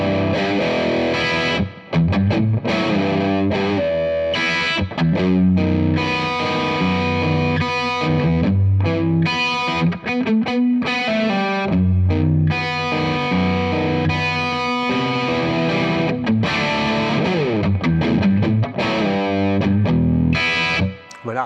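An electric guitar played through a Mad Professor Royal Blue Overdrive pedal with the drive turned up gives a dense, driven tone. The chords and riffs run almost without a break at a loud level.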